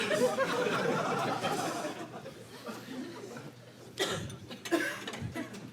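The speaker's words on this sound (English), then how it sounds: "We can edit out those coughs in the recording" Scattered coughs and murmurs from a comedy show audience, with some chatter and a few sharper coughs toward the end, fairly quiet overall.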